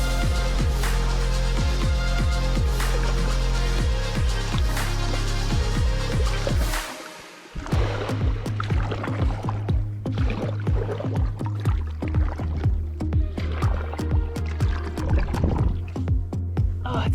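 A kayak paddles across a lake in Grand Teton National Park, with repeated paddle strokes dipping and splashing in a steady rhythm close by. Water gurgles and drips between strokes, and there is a brief lull partway through.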